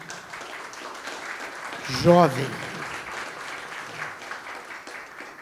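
An audience in a hall applauds steadily for several seconds, a dense spread of clapping with a brief spoken word rising over it.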